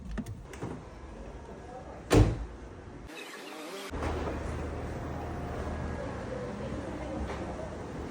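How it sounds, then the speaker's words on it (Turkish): Car with a keyless entry system closing its power windows automatically, a low motor whir and mechanical clunks amid outdoor noise, with a sharp thump early on and a brief cutout of sound midway. "Otomatik camımızı kapatacak mı?"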